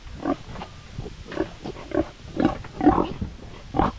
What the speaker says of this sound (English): They have some pigs in here as well. Big one with the babies.